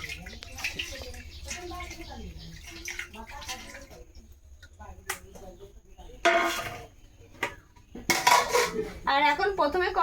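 Rice poured into a metal cooking pot in a village kitchen, with clattering pot and utensil knocks and splashing water in uneven bursts; a voice speaks at the start.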